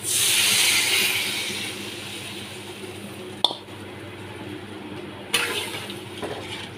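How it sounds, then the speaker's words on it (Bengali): Water poured from a bowl into a pan holding fried potatoes for a fish-egg fritter curry, a loud rushing splash at first that settles into a softer steady sizzle-hiss, broken by two brief clatters. "এবার এর মধ্যে 1 বাটি জল আমি ঢেলে দিচ্ছি।"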